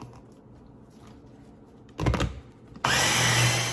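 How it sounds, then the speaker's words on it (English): A blender starts up on a sun-dried tomato dip with fresh basil, first a short loud burst of whirring, then a sustained, steady high-pitched motor roar after a brief pause, close and loud. "let's go ahead and start blending away"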